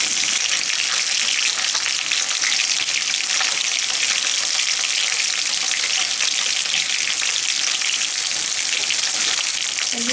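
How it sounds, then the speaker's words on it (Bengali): Stingray fish pieces frying in a pan, a loud continuous sizzle and crackle of hot oil that holds steady throughout with no talking. "মাছগুলো আমি লাল লাল করে ভেজে নেব।"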